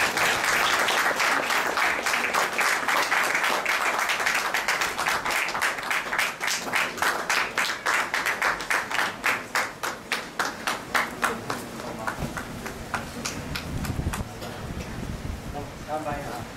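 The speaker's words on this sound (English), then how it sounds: "Give another round of applause." Audience applause at the launch of an album, dense steady clapping from a crowd that thins into distinct separate claps before fading, with voices faintly under it near the end.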